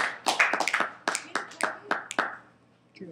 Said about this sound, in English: They're clapping for him.